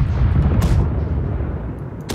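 A ship's cannon fires in the pirate naval game Blackwake: a loud, heavy boom that rolls into a long, decaying rumble, with a sharper burst near the end.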